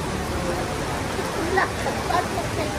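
Heavy rain hisses as a steady, dense wash near Manila Bay, with faint voices beneath it.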